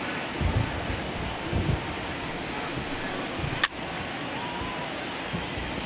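Steady, even rain hiss falls on a baseball field in the video game MLB The Show 19, continuous and moderately loud, with a single sharp click partway through and faint commentary voices underneath.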